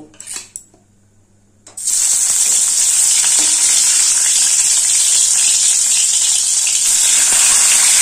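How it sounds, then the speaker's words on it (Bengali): Chela sea fish dropped into hot mustard oil in a wok: after a quiet start with a few light clinks, a sudden loud hissing sizzle erupts and holds steady and intense, close by, without talk. "এবার তেল গরম হয়ে গেছে, এই তেলে মাছগুলোকে ভেজে নেব"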